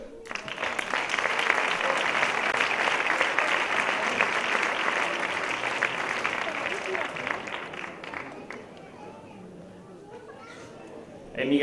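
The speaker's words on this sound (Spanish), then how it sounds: "Pues ese aplauso para Miguel Ángel, que no está aquí" Audience at a 2017 sports award gala breaking into sustained applause, loud and dense for about eight seconds before thinning out into scattered claps and murmurs.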